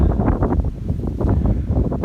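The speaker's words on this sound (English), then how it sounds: "It's a bit windy today" Gusty wind buffets the microphone close up, a continuous low rumbling roar with uneven surges.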